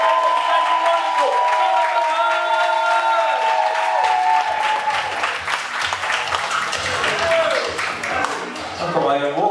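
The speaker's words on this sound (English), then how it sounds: "Maria, start the clapping. Everyone join in." A bar audience at a comedy gig claps and cheers for a comedian's walk-on, with loud applause and whoops. Walk-on music plays through the first half and then gives way to the crowd noise.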